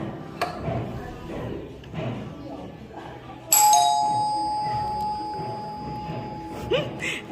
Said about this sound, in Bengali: কলিং বেল টিপে দৌড় দিতেছে।